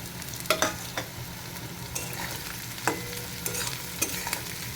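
A spatula scrapes and stirs a pre-fried egg in a sizzling pan, with a handful of distinct strokes repeated every second or so over a soft, steady frying hiss.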